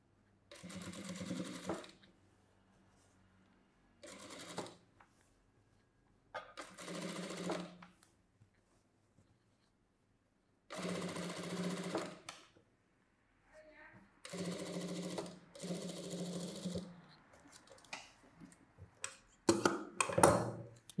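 Sewing machine edge-stitching the lining of a saree blouse, running in about eight short, rapid, rattling bursts of one to two seconds each, separated by quiet pauses, close and clear.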